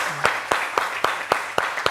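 A few people clapping in a slow, evenly spaced rhythm, about seven distinct claps, close by and fairly light.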